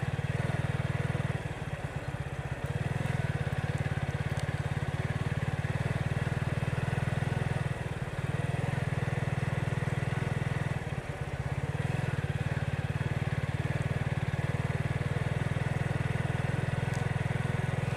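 A motorcycle rolls through village roads near Charkhai Bazar and Natesshor in Sylhet, Bangladesh, its engine a steady low drone heard from the rider's position with faint wind noise and a few slight dips.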